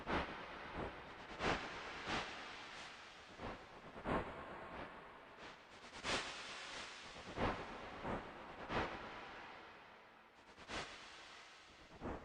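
A chugging, rhythmic synthesized drone made with the Borderlands Granular app on an iPad, with regular broadband bursts like a steam engine puffing, steady and fairly loud with no voices.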